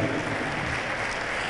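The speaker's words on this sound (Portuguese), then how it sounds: "Uma salva de palmas para ela" An audience applauding a singer at a duet performance, steady dense clapping throughout, no voices.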